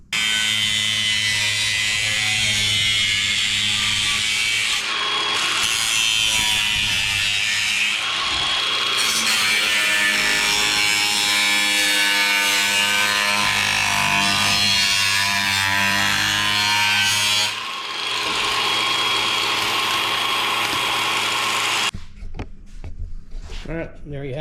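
A long straight cut through a vintage camper door, with a saw grinding steadily and loudly for about twenty seconds, pausing briefly midway, then stopping near the end.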